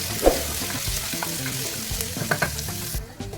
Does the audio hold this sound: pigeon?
no